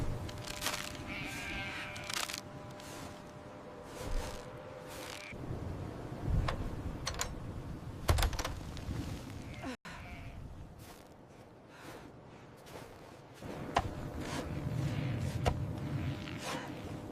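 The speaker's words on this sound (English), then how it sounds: "she manages to get the sheep back to safety in her home" Sheep bleat repeatedly at a home during a freezing storm, several calls near and far with crows cawing, wind and background rustle in between; no talk.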